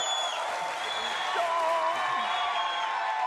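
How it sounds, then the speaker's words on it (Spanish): A studio audience breaks into sustained applause mixed with crowd noise and a few whoops, dense and steady throughout. "Un aplauso para don Severo y los viejitos solos."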